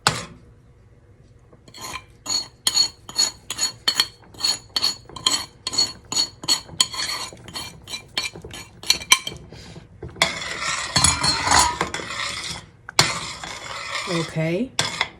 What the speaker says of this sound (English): Stirring, stirring, stirring so we don't get lumps